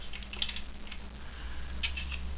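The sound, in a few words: toy Moonship clicker mechanism clicking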